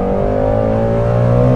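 Engine of a Shelby GT350R sports car held at a steady, loud drone with strong low harmonics, running continuously and close up throughout, no talk over it.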